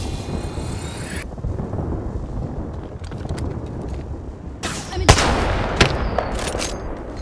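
Video game gunfire crackles in a shooter while a character tops off shields and heals. Dense rumbling fire fills the first seconds. Later come several sharp, loud bursts of shots close by, with no talk.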